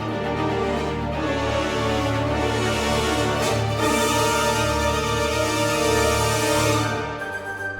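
An orchestral arrangement of a theme without percussion swells as a full, sustained ensemble of layered tones, holding steady and loud before thinning out at the very end, with no voices.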